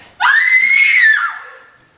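A single loud, sustained cry rings out offstage during a theatre performance of Macbeth, rising sharply, holding for about a second, then trailing off.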